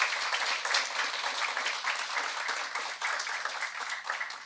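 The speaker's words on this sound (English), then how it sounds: "You can clap again." Audience applause after a keynote at a cognitive science conference at Carleton University: steady, dense clapping from a large crowd, moderately loud and continuous throughout, with no talk over it.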